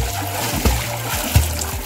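Legs kick and splash water while swimming in a well, with a few close, low splashes and sloshing over a steady watery background.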